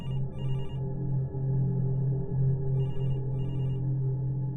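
An old-style telephone rings in bursts of bright trilling bells, two rings separated by a pause. A steady low hum runs underneath, and no one speaks.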